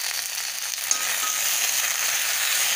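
Tomatoes with salt sauté in a pan for a garlic chutney, giving a steady, soft hiss and sizzle with a small clatter, no voices.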